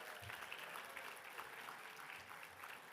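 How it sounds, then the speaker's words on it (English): An audience at a national planning awards presentation applauds, a steady, distant wash of many hands clapping, faint and even throughout with no voices standing out. "Give them all a round of applause."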